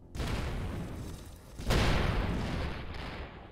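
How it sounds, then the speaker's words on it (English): Railgun fire in the space game Avorion, a sustained roaring barrage with a sharp, heavier blast partway through, dense and continuous. "Okay, I love these railguns."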